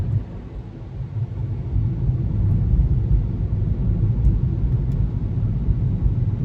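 Diverted road traffic passes near a downtown Fort Worth street, a continuous low rumble of engines that swells after the first second and stays steady with no talk.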